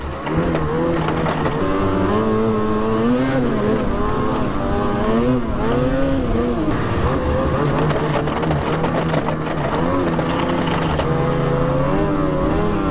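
A snowmobile engine whines and revs steadily at close range through late spring riding, its pitch rising and falling continuously with no pauses and no talk.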